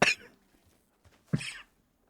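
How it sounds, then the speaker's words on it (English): Two separate coughs, one at the start and another a moment later, fairly quiet and close, with near silence between them. "can't stop coughing."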